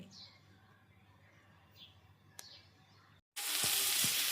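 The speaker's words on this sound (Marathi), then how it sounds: "तर आता तेल टाकल्यानंतर जिरं मोहरी टाकली" Cumin and mustard seeds hit hot oil after a few faint chirps, erupting into a loud, dense sizzle with sharp pops that fills the last second.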